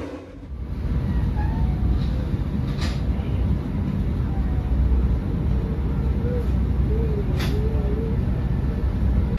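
A Singasari passenger train rumbles steadily as it rolls into Madiun station, with low continuous rail noise, faint squeals and occasional brief clanks over the top.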